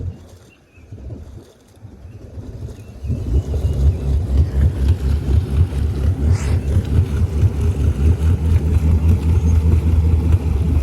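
An outboard boat motor starts up, then settles into a loud, steady, close idle with a fast regular pulse that continues to the end.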